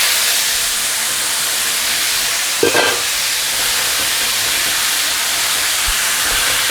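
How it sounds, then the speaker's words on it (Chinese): Ribbonfish re-fries in hot oil with a loud, continuous broadband sizzle and hiss, briefly interrupted by a short clatter near the middle. "再给它复炸一次。"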